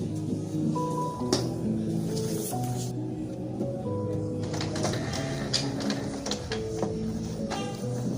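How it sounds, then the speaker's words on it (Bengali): A printer working through high-quality paper makes a continuous mechanical whir with whining tonal motor notes, clicks and sliding rattles as the sheet feeds, close and moderate in level, with no clear talking. "দর্শক দেখো প্রিন্ট ওর, বাট একটু টাইম লাগবো কারণ প্রিন্টটা একদম হাই কোয়ালিটিতে ওর।"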